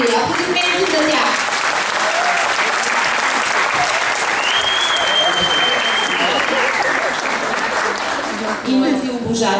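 Loud, sustained applause from a large audience at a children's song contest, a steady roar of many hands with crowd noise and brief voices mixed in.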